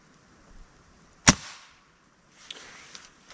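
A gas piston .22 pellet rifle fires a single sharp crack that decays quickly in quiet surroundings, followed later by a couple of faint clicks.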